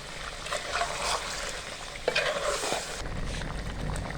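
Yogurt hits sizzling chicken karahi in a hot wok, a loud steady frying hiss with stirring scrapes and a brief wet splash midway, continuing without talk.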